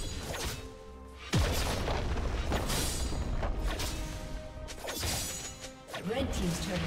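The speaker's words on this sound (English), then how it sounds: "Red team's turret has been destroyed." A turret being destroyed in League of Legends, with a sudden crashing boom and rumbling debris, followed by more impacts and whooshes under a game announcer's voice.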